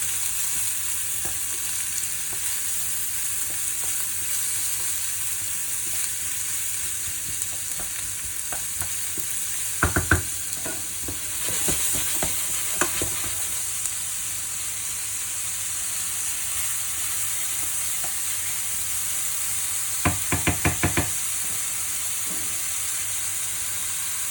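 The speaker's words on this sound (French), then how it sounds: "la poêle avec l'huile d'olive. On verse les oignons, ail, poireau. On va laisser revenir gentiment, sans les brûler." Onions, garlic and leek frying gently in olive oil in a pan, a continuous soft sizzle and hiss throughout, with two brief bursts of stirring scrapes, no talk.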